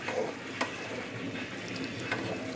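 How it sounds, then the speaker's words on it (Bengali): Flat beans fry in a pan with water added, a soft steady sizzle with a few stirring scrapes and clinks, close and fairly quiet. "দেখো আমার শিমটা মোটামুটি ভাজা, জল দিয়ে দিয়েছি"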